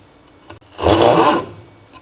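A saw starting a cut on a workpiece clamped in a bench vise: a single short rasping stroke swells for about half a second after a light tap, close and fairly loud.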